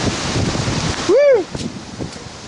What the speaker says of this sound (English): Man, that one gust. I know. I just got blown over.